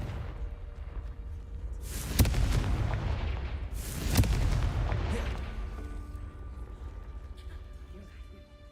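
Confringo explosive spell from a Harry Potter video game: two loud booming blasts about two seconds apart, each a sharp crack swelling into a rumbling roar, with a low droning backdrop continuing between and after them.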